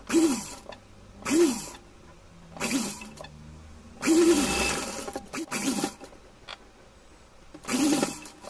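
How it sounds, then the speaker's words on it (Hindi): A sewing machine stitching a small doll's frock, running in short separate bursts of a second or so, about six of them, with quiet pauses between, close and fairly loud. "पलट करके यहाँ सिलाई लगाएंगे"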